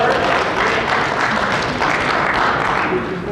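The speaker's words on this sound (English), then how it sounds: "His partner was clapping." Dense applause fills a pool hall during a snooker match, a steady wash of many hands clapping at once, loud and close with no breaks.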